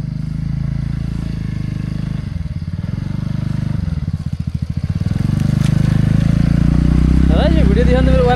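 Motorcycle ride on a rough, broken mountain road near Pokhara toward Aatighar: a steady close engine drone with clattering and scraping over uneven ground, revving up toward the end as a voice briefly cuts in.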